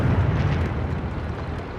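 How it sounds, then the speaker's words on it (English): In World of Tanks, an artillery shell bursts nearby with a heavy, rumbling blast that rolls on for a couple of seconds before slowly easing off, with no voices. "Artillery fired at that."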